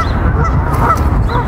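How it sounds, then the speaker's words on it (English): Geese at a pond give loud, close, repeated honks in an agitated run of overlapping calls. "Those geese are not happy about me being here."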